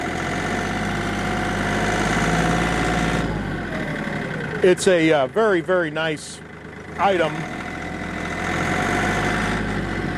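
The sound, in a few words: Kioti CK3510 tractor engine idling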